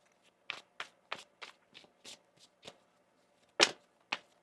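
Tarot cards are shuffled by hand close up in about a dozen soft, crisp riffle-like slaps at uneven intervals, the last few a little louder.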